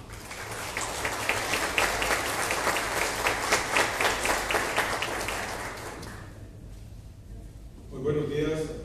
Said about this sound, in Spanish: a quien recibimos también con un fuerte aplauso.